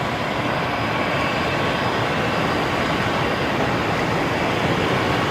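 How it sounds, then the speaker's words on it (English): A Qatar Airways airliner coming in to land at Brisbane Airport at sunset, heard as a steady, loud, broadband engine roar that holds constant throughout with no talking over it. "Qatar about to land and it's still light."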